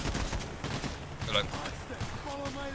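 Gunfire from a police shootout in the heist game Payday: The Heist, on the Slaughterhouse level, rattling in dense bursts under an ongoing voice.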